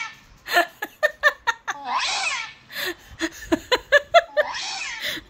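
A child imitates a cat with a run of short, rhythmic meow-like yelps, broken twice by longer drawn-out cat-like wails, close and clear.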